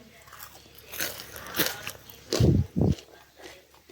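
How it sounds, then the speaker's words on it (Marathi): Several crunchy bites into crisp fried coriander fritters made with mixed flour, close to the microphone, with two loud crunches in quick succession near the end. "कुरकुरीत आवाज तिथपर्यंत ऐकू आला असं इतकी कुरकुरीत झाली आहे"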